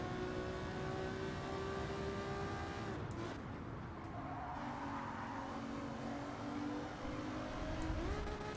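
Race car in Gran Turismo 7, a continuous high engine whine that dips as the gear drops and then climbs again into a hard rev, with faint tire squeal, steady and moderately quiet throughout.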